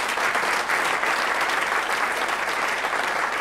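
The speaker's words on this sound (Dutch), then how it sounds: "En ik wil nu al een applaus voor deze clubs." Steady, dense applause from a large crowd, loud and continuous throughout without pauses or voices standing out.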